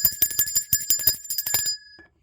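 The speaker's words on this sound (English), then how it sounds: "Let's ring the bell." A bright bell rings rapidly in a quick series of metallic strikes, loud and close, then stops abruptly and leaves a short quiet tail.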